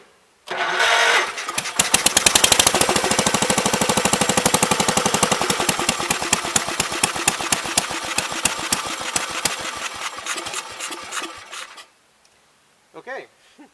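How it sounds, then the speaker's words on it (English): A 1984 Gravely 5665 tractor engine, fed by a carburetor with a sticking float, cranks over and fires into a loud, rapid, chattering run for about ten seconds, then cuts off abruptly, leaving quiet. "so it's getting fuel to the carb, it's running on it, and the float is sticking."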